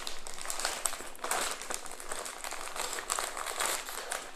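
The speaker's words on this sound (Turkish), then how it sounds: "Tabii öncelikle yedek parçalarımızı poşetinden çıkartalım." A plastic bag crinkles and rustles without a break as spare parts for a Bruder Caterpillar tracked excavator toy are taken out, close and moderately loud, with no talk.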